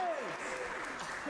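Crowd at a ninja competition qualifier at Stamford Ninja Academy claps and cheers in a brief burst, moderately loud, with an excited voice whooping over it.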